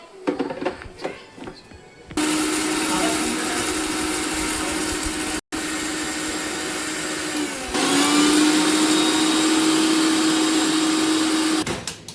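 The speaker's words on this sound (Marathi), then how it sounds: "भाजून घेतलेलं आता सगळं मी बारीक वाटून घेते" A mixer grinder grinds roasted spices into a fine powder, starting with a steady loud whir that briefly cuts out, then resumes with a higher, strained pitch before stopping.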